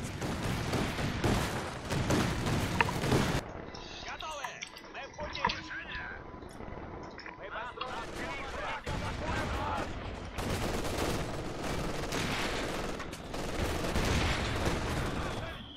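Machine gun fire in a Company of Heroes 2 battle, bursts of rapid rattling shots, loud and close, broken by a quieter stretch with other game sounds, and voices talking over parts of it.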